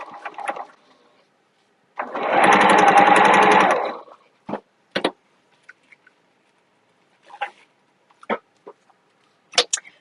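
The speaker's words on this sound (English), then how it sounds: "I want to make this extra strong, so I'm just going to backstitch" A sewing machine stitching a vinyl tote lining seam with a backstitch, one steady mechanical whirring run of about two seconds, close by, then short clicks and handling noises.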